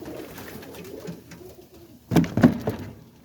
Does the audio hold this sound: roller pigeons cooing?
yes